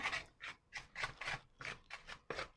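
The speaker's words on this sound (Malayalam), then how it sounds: "ഇനി ഇതിനെ നമുക്കൊന്ന് നല്ലപോലെ മിക്സ് ചെയ്യണം." Cauliflower pieces mixed by hand with chili powder, spice masala and egg white, giving a series of soft rhythmic rubbing and rasping strokes, quiet and close.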